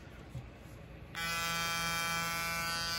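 A Gamma+ X-Evo electric hair trimmer switches on partway through and runs with a steady, close, bright buzz, loud from its blade, after a quieter stretch of background hiss.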